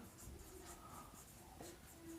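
Faint scratching of writing on a board during a Hindi applied maths lesson on differentiation, a few soft strokes and taps up close, with quiet room noise and no clear talk.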